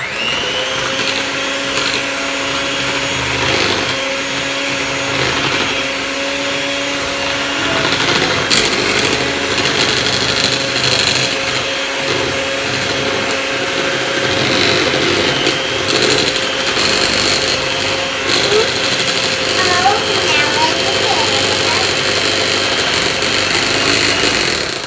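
Muffin batter being mixed with an electric mixer: a steady, loud motor whine runs throughout, with the pitch shifting partway through and occasional clatter as the beaters work the bowl.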